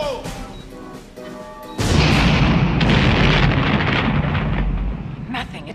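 A breaching charge detonates indoors in an action movie, a sudden loud boom at close range with a long crashing, rumbling tail after brief talk and shuffling beforehand.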